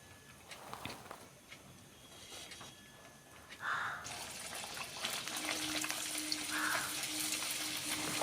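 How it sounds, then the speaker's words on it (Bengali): Green pea kachoris dropped one by one into hot oil for deep-frying: after a quiet start, a broad, steady sizzle swells up and keeps hissing close by, with no talking. "গরম হয়ে গেলে একে একে আমি একটা করে কচুরি ভেজে তুলে নেব"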